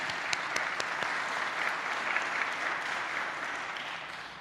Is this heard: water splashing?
no